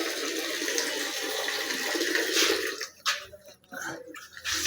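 Fresh water poured and splashing into a container for pet parrots, a steady running pour that breaks into uneven splashes and drips near the end, close by with no talk.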